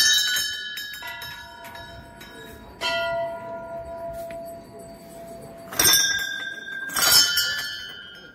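Many bells hung in a row at a mountain temple ring out in separate strikes, each leaving a long shimmering tone that fades, with clusters of clanging near the end.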